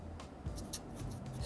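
Pen writing a date on a label for a jar of pickled gooseberries, a soft close scratching and rubbing at steady low level with brief taps, no talk.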